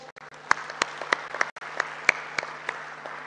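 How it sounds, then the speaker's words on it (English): Sparse, scattered clapping from a small group at a women and youth conference, a dozen or so separate claps over a couple of seconds, fairly faint. "Another round of applause"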